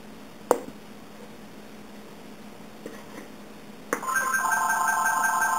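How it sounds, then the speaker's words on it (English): A telephone rings in a kitchen while someone is measuring baking ingredients, starting after a few soft clicks and then sounding as a steady, fairly loud electronic ring that carries on to the end, with no talk. "Oh no, the phone is ringing."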